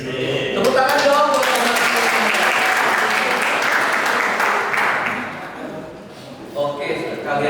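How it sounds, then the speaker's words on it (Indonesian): Applause from a gathered group swells into steady clapping for several seconds, then fades as a voice comes back in, at an anniversary celebration. "tepuk tangan dong."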